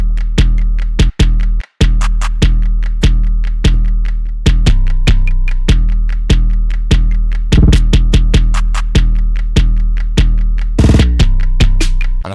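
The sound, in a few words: hip-hop beat with two layered 808 bass tracks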